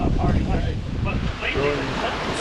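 Wind and waves on a sailboat during an offshore passage in November past Hatteras, with heavy wind buffeting the microphone over a rushing wash of water, loud and continuous, with a voice partly audible in the mix.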